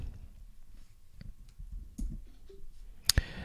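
A computer mouse gives a crisp click on a web page button, a single sharp tap near the end after quiet desk handling noise and faint background rustle.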